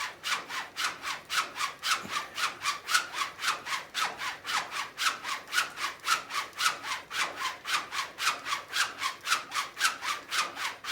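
Straight razor, a Wade & Butcher, stropped hard on a fire hose strop, a long steady run of rhythmic back-and-forth swishes, evenly paced and close, with no talk.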